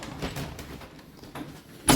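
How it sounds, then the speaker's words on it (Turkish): An apartment door is pulled shut in a 3+1 flat, a single firm thud at the very end after a stretch of quiet room noise. "Şu kapıyı örteceğim müsaadenizle."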